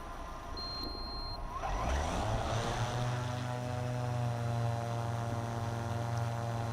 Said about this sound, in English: the ground crew will arm the drone and the drone will perform a takeoff mission up to the safest altitude